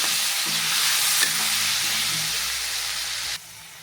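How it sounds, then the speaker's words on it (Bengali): Continuous close sizzling of potatoes with salt and turmeric frying in a pan, with a faint clink partway through, cutting off abruptly near the end. "আমি খুব সুন্দর করে আলুটা ভেজে নেব"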